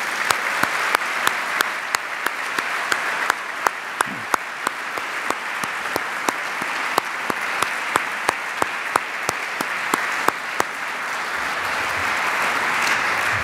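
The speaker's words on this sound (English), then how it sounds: "Please join me in a round of applause for Dr. Lowitja O'Donoghue and the 12th annual oration in her name" Steady crowd applause at an evening oration event, dense clapping throughout with several sharp individual claps standing out near the front, continuing without talk.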